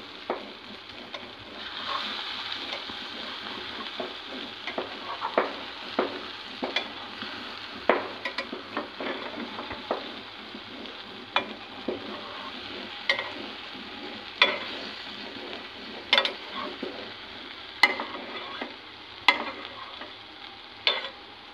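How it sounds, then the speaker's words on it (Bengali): Kochur loti, taro stolons, simmer and fry in a pan over low-to-medium heat, with a constant soft sizzle broken by repeated sharp clinks and scrapes of a utensil stirring and turning them. "মিডিয়ামের থেকে কম তাপমাত্রায় 5-6 মিনিট আবার সিদ্ধ করে নিব।"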